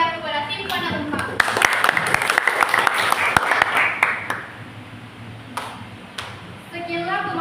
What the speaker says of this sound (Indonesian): Berikan tepuk tangan yang meriah kepada tim pada tempat.